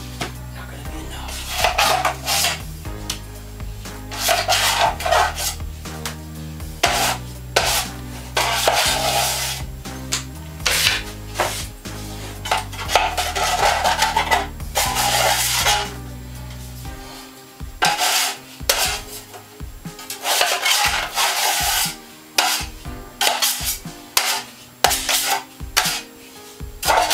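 A trowel scrapes and spreads floor leveling compound across the floor inside a bus conversion, giving repeated rasping strokes in an uneven rhythm, close and fairly loud, with no talk.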